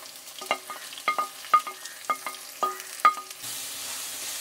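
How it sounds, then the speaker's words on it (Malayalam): Chopped onions sautéed in a pan in a village kitchen, heard as a soft sizzle under a series of about seven sharp spatula scrapes and clinks at a steady rhythm, with a louder hiss at the end. "നമ്മൾ മുറിച്ച് വെച്ചിരിക്കാൻ സവാള കൂടി ആഡ് ചെയ്ത് നല്ലതുപോലെ ഒന്ന് വഴറ്റിയെടുക്കാം."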